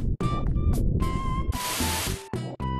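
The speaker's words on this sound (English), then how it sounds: "That's the sound of the geyser." Geyser eruption in the game Earthbound: a dense hiss of rushing spray bursts in for about a second over steady looping game music with short beeping tones.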